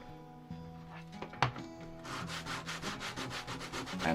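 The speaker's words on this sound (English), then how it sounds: "and then I use some sandpaper" Sandpaper rubbing over leather for a handmade container, a few scattered scrapes and one knock, then a steady run of rhythmic back-and-forth sanding strokes, close up.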